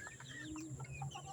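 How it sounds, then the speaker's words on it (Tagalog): Native chickens on a backyard farm cluck softly while feeding, making a few faint, scattered low calls and chirps over quiet background hiss, with no one talking. "Ayan ang aking mga native na manok."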